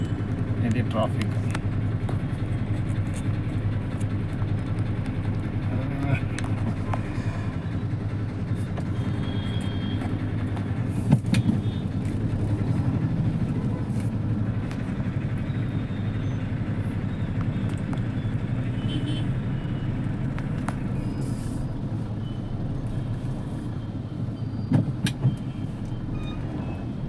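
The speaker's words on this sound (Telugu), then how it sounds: "ఇది ట్రాఫిక్." Congested road traffic with cars and other vehicles crawling along, a constant low rumble of engines with occasional horn-like blips and clatters, while a person talks over it throughout.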